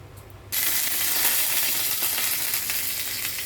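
Garlic drops into a hot pan and sizzles loudly and steadily, a dense frying hiss that starts abruptly and continues without talk.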